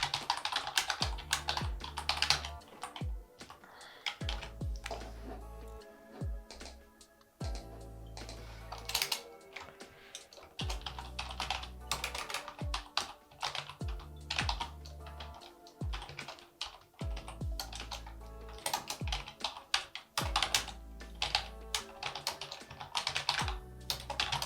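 Typing on a computer keyboard, a steady run of close, clicky keystrokes in quick uneven bursts with short pauses, plus occasional heavier key thumps.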